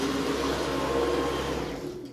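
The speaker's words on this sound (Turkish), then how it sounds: "Evet kıza ben burayı süpüreyim ondan sonra görüşürüz." Household vacuum cleaner sweeping the floor at home, a steady close motor whine and airflow hum that holds, then trails off at the end.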